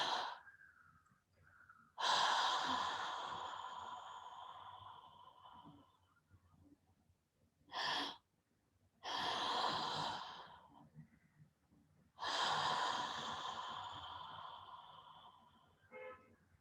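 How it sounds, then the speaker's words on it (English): Two-part breath drawn in through the mouth as a breathing exercise, repeated in several strong airy bursts: a loud long intake, a brief sharp one, then further long inhales, close and alone. "Inhale through the mouth, a short breath in, and then a deep breath in."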